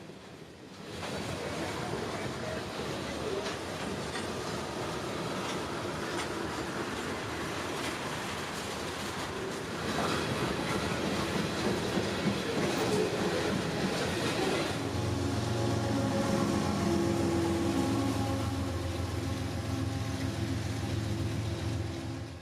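A CSX freight train of ethanol tank cars, led by a Tier 4 GE locomotive with a distributed power unit, rolls past at Plant City, Florida in a long, steady rumble that swells midway and carries on with grinding wheel tones and no talking.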